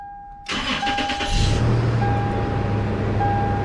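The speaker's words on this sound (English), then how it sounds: "So when you start up the car," A 1998 Toyota Tacoma with a suspected charging fault cranks and starts, a broadband burst of starter churn settling into a steady low idle, close and alone with a faint tone throughout.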